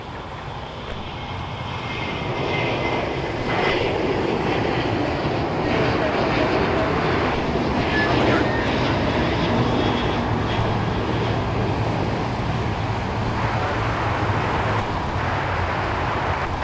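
An American Airlines jet taking off at LAX roars steadily at full power, a broad loud engine rumble with whining tones that swells and holds for the whole stretch, with radio chatter faint underneath.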